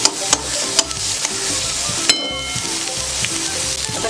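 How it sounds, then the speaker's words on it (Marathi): Onion fries in oil for a Malvani red chickpea sambar, a dense steady sizzle close up with regular spatula scrapes and taps as it is stirred. "आता कांदा थोडा भाजत आला आहे"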